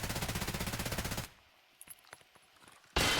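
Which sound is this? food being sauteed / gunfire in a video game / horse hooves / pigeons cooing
gunfire in a video game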